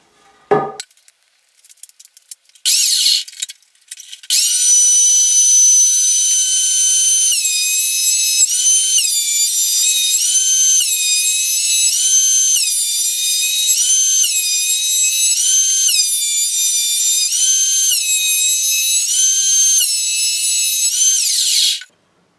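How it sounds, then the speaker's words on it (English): Timber being thicknessed for a guitar neck blank: after a few brief knocks, a loud, close power planer or thicknesser whines steadily for about eighteen seconds with a high tonal scream, then cuts off. "I'm going to take what's left of the timber, thickness it down, get rid of this lip"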